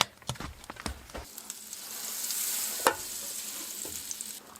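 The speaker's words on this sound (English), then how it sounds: "Some onions frying here." Frozen onions fry with a steady sizzle after a few stirring clatters, on a stove at a winter bush camp, with a sharp utensil tap near the end; close and moderately loud, no talk.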